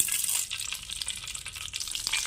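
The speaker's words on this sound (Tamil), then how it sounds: "கடுகு நல்லா பொரியுது" Mustard seeds spluttering and popping in hot oil in a pan, a dense close crackle with rapid bright pops, continuous and fairly loud, with no voices.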